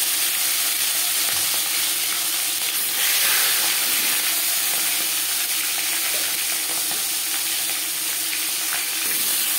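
Fish pieces marinated in salt and turmeric fry in hot refined oil, giving a loud, continuous, dense sizzle and crackle that fills the whole stretch without letup.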